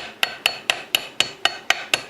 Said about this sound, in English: grab my hammer and start